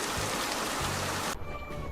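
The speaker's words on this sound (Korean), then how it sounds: "태양이와 별이가 놀이공원에 가는 날에 하필 비가 와서 울상이네요" Rain falls in a dense, steady hiss in a children's animated science show, then cuts abruptly to a quieter, thinner background carrying faint sustained tones for the last half second.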